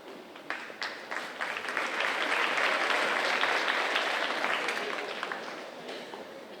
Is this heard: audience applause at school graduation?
yes